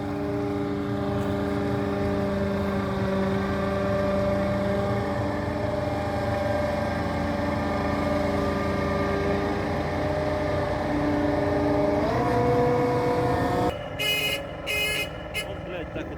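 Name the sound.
tractor engine pulling a drowned combine harvester from river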